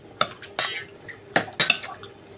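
A utensil scrapes and clinks against a bowl while stirring a chicken thigh marinade with oyster sauce, four distinct close metallic knocks with wet swishing between them.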